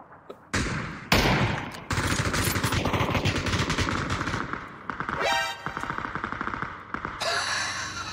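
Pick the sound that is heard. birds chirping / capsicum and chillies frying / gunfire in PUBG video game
gunfire in PUBG video game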